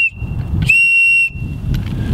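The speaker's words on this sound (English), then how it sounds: "Got a signal whistle, okay?" A single loud, piercing signal whistle blast held for about half a second, with a fainter tone sounding before and after it.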